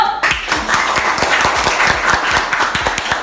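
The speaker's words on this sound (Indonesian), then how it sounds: "Kasih aplaus dulu dong buat kelompok 1" Clapping from a classroom audience welcoming group 1, many hands striking in dense, steady applause that starts abruptly and carries on evenly to the end, with no voices.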